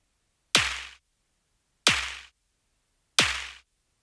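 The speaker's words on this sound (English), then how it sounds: "Then I've got this Foley snare." Three separate Foley snare hits, each a sharp, close slap with a short decaying tail, spaced evenly about a second and a bit apart with silence between them.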